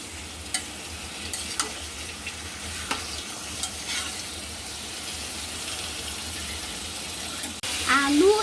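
Chicken pieces, potatoes and green chillies frying in oil in a pan with browned onions, a steady loud sizzle with occasional stirring scrapes, and a brief clatter near the end.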